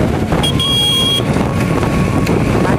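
Strong wind buffets the microphone of a motorbike ridden at about 90 on a highway, a loud steady roar with a faint engine tone underneath and no talk.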